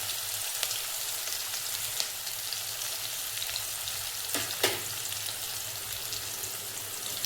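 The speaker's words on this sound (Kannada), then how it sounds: "ಸ್ವಲ್ಪ ಲೈಟಾಗಿ ಒಂದು ಫ್ರೈ ಮಾಡ್ಕೊಂಡ್ಬಿಡೋಣ" Garlic, chopped onion and curry leaves fry in a pan for a capsicum gravy, giving a steady, moderately soft sizzle with light crackles and a couple of sharper pops near the end, no voices.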